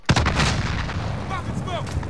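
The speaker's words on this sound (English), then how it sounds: "Planting explosives." A heavy explosion from planted explosives in the Warzone video game booms at the start and rumbles on through a gunfire-filled mix, with a voice talking briefly over the noise.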